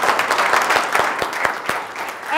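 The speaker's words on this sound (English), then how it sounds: "round of applause for this group" A crowd at a community event gives a group a big round of applause, dense continuous clapping at close range with a few sharper individual claps standing out.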